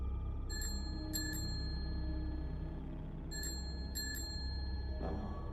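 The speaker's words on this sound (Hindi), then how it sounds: "उसी क्षण बाहर से फिर वही साइकिल की घंटी सुनाई दी।" A bicycle bell rings outside a house on a stormy night in a double-ding pattern, two quick bursts near the start and two more around the middle, clear over a steady low rumble of rain or wind.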